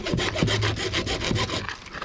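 A hand saw cuts through a 4-inch main line pipe for a sprinkler system, rapid rasping back-and-forth strokes close up and loud.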